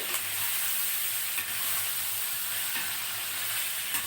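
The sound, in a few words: stirring tomatoes into cauliflower curry in a pan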